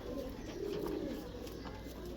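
Fancy French pigeons cooing softly, low rolling coos heard faint at a short distance against a steady background hum.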